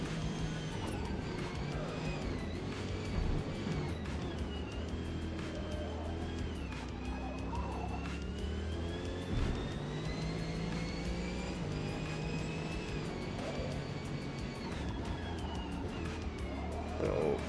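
In Forza Motorsport at Mount Panorama, a race car engine drones steadily, its pitch rising and dipping as the throttle is feathered through corners, moderately loud and continuous.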